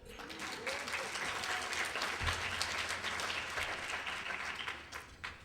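A second round of audience applause at a celebration for a couple, dense clapping from a crowd that swells and then tapers off toward the end.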